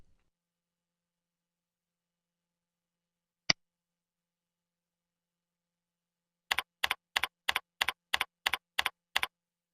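Password typed on a computer keyboard: one isolated keystroke, then a quick run of about nine crisp, evenly spaced key clicks, close and clear against silence.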